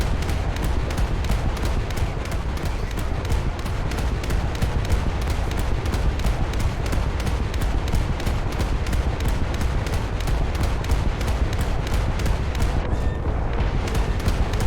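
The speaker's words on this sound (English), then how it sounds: "Oh, that's an 800 kilogram bomb." Rapid, relentless anti-aircraft fire and heavy booms from a naval air-battle game set at Midway, a continuous loud barrage with an 800 kilogram bomb blast buried in the din.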